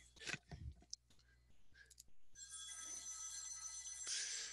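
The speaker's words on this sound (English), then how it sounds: "I wish I had somebody here to hang up the phone." A telephone rings indoors at low level, a bright sustained electronic tone that starts partway through after a few quiet clicks and handling noises, continuing to the end.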